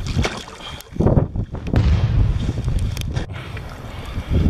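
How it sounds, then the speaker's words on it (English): Strong wind buffets a boat on the big lake of Lac du Bonnet, a loud, gusting rush of wind with water noise under it and no talking. "So the wind really picked up now on Lac Du Bonnet, and she's ripping on the big lake."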